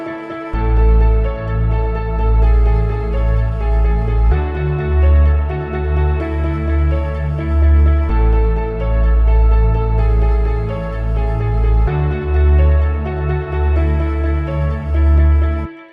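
A driving progressive house track with a steady four-on-the-floor kick, deep bass and layered synth chords, loud and continuous with no voices.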